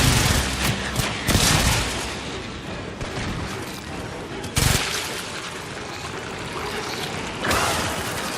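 Weapon fire in the video game Warframe aimed at a hive, heard as a steady stream of gunfire in a dense, busy game soundscape, with sharper loud bursts standing out at a few points.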